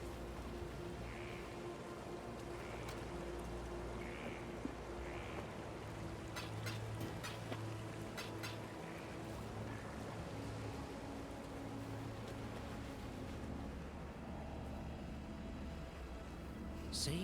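Steady, faint rain hiss in the Path of Exile video game forms a quiet, even wash of falling water, with a few soft brief ticks on top and no voices.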